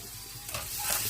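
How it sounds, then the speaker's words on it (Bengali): Radish and spinach sizzle and fry in a pan while being stirred, a steady hiss that grows louder and brighter toward the end, with scraping stir sounds and no talking. "মূলা আমাদের অলমোস্ট ভাজা হয়ে গিয়েছে।"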